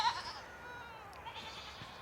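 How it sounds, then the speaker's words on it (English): Goats bleat in a wavering, drawn-out cry, fairly close, over faint background noise. "The goats are yelling at us, if you guys don't hear them."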